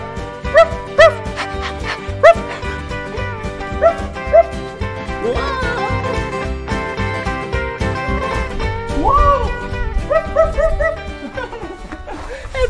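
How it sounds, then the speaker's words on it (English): Cow dogs kept in a cow barn on a farm, giving several sharp barks and yips over about a dozen seconds, with whimpering mixed in against a busy musical background. "this is where cow dogs stay"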